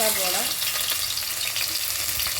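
Oil sizzles and crackles steadily in a hot pan while mackerel curry is prepared at home, a loud continuous frying hiss with small pops.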